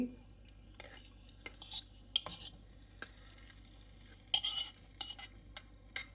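Fried cashews in ghee are stirred into thiruvathirai kali, giving soft irregular scraping and clinking against a quiet, faint sizzle, busier toward the end.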